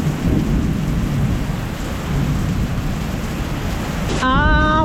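Heavy rain pours steadily in a severe thunderstorm in Fuzhou, China, a dense loud hiss with deep low rumbling of thunder throughout, close and continuous, no voices.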